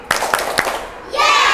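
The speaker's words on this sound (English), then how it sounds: "Clap. Two." Three quick, crisp hand claps from a class of students standing in a classroom, close and evenly spaced, then a swell of children's chatter and cheering from the group.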